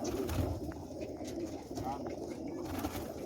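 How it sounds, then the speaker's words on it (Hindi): Pigeons that flew in and settled on their own coo softly and steadily at close range, with low murmuring calls running throughout and some speech-like voices faintly underneath. "ये जो ना सीखे हुए हैं कबूतर और ख़ुद ब खुद आकर बैठ गए हैं।"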